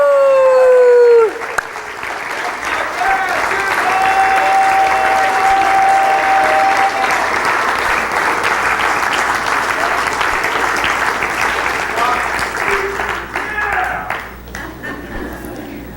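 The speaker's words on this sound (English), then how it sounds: "Keep clapping. Clap for yourself." Loud, sustained applause from a large crowd with cheers and whoops, fading slightly near the end.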